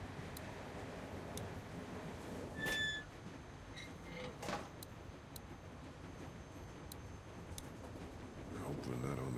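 A train boxcar rumbles along in The Walking Dead video game, a low continuous rolling drone with intermittent metallic squeaks and clanks. Voices are heard faintly in places.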